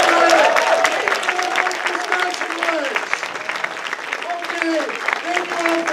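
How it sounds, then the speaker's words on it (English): Audience applause at an opening-night film screening of a comedy feature, a sustained patter of many hands clapping at moderate distance, with voices talking and calling out over it throughout. "Another round of applause."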